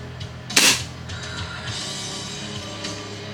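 An airsoft gun with a strong AIP spring fires a single sharp, loud snap near the start, followed by faint mechanical handling noise.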